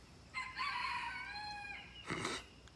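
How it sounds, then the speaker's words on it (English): A rooster on a homestead gives one full cock-a-doodle-doo crow, clear and moderately distant, followed by a short burst of noise. "Rooster."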